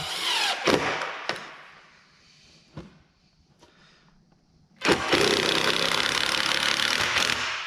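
A power drill drives screws into a wooden raised planter bed, with short bursts early on, a few faint clicks, then a loud sustained whir near the end.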